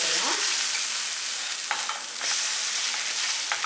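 Adai dosa frying on a hot pan gives a steady sizzle with a few scraping, clattering knocks as it is turned over, close and continuous with no talk.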